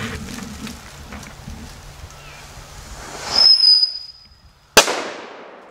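Fireworks explode at a 4th of July gathering: a rising whistle-hiss of a launched rocket, then a single sharp loud bang with a decaying tail, over earlier crackling background noise.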